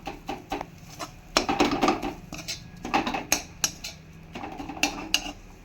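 A metal spatula stirring mashed rohu fish in a wok, with repeated close scraping and clacking strokes in an uneven rhythm, some louder hits against the pan.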